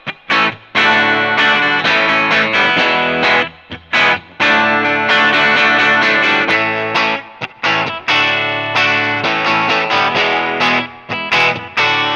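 Electric guitar with a bright, cutting bridge-pickup tone played alone, strummed chords and riffs with short pauses between phrases, loud and close.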